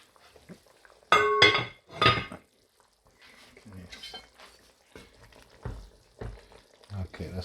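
Vegetables simmering in a spicy fish soup, with bursts of sizzling and a couple of sharp clinks of a utensil against the pot, then softer bubbling and stirring while a person talks quietly in the background.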